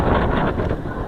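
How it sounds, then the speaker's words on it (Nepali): Strong wind blows outdoors at Swayambhu in Kathmandu, buffeting the microphone with a loud, continuous low rumble across the whole moment. "बबाल हावा चल्यो"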